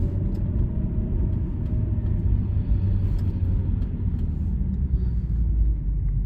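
A 1993 Ford Probe GT moves through slow traffic, its engine and road noise forming a steady, loud low rumble from inside the car, with no voices.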